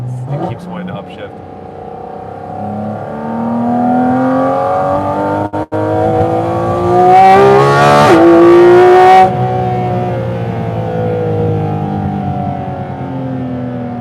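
A Porsche 718 Cayman GT4 RS engine revs while driving in manual mode, its loud rising and falling howl climbing through the gears up close, with people talking over it.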